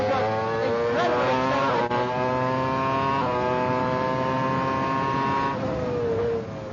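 A Formula One car powers out of a narrow, tight pit-lane exit, its engine note climbing steadily through the gears in a loud, continuous high-pitched whine from close by, with short dips at each upshift.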